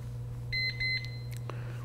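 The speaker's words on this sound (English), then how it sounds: "With a double beep there and that one green indicator light" Two short electronic beeps in quick succession from an Amprobe RLD1 leak detector signalling it is ready after warm-up, clear and close, over a steady low hum from the device.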